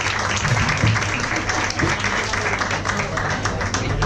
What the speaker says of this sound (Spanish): Un aplauso, por favor, a todos vosotros